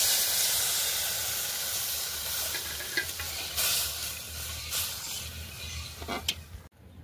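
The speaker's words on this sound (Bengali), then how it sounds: "চালটা ভাজা হয়ে গেছে, এবার আমি এর মধ্যে দিয়ে দেবো দুধ।" Milk poured into rice frying in a pan for payesh, a loud continuous hissing sizzle with steam and occasional stirring scrapes, close and without talk, cutting off abruptly at the end.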